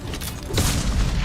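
A deep, loud explosion goes off in the Mass Effect video game, a heavy boom that swells halfway through and keeps rumbling to the end.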